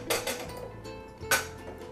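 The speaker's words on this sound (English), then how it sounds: "you just give it a little smack on the corner of the blender" An egg is smacked against the corner of a blender in a kitchen, giving two sharp, close cracking knocks about a second apart, each ringing briefly against the hard edge.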